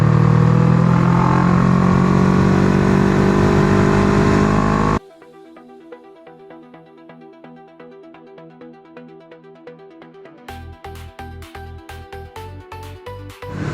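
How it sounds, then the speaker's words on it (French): A 1995 Honda CB500 PC26 motorcycle accelerating on the road, a loud rising engine roar for several seconds that then drops away to a much quieter passage with rhythmic pulsing sounds. "Là, je vais vous montrer un petit peu l'accélération."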